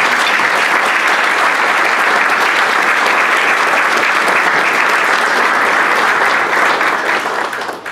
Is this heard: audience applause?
yes